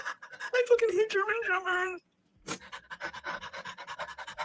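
A German Shepherd pants fast and rhythmically close by, a steady run of breathy pulses after an earlier voiced, whine-like stretch and a brief silence.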